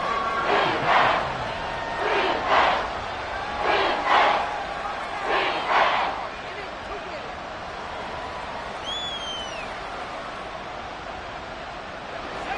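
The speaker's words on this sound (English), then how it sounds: "This crowd turning up the decibel level." A football stadium crowd roars in four rhythmic surging swells, then settles into a steady, distant wash of crowd noise.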